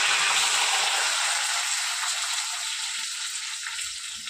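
Curry leaves and onions fry in a hot pan with a steady, loud, hissing sizzle that fades slightly toward the end, with no voices.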